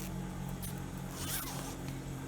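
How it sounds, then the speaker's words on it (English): A removable blouse zipper is handled up close, giving a short scratchy rasp of teeth sliding over a couple of seconds against a steady noisy background. "this is my zipper."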